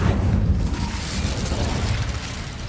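A fiery spell blast bursts in Hogwarts Legacy, a loud, sustained rumbling roar that fills the whole moment with dense, booming energy and no voices over it.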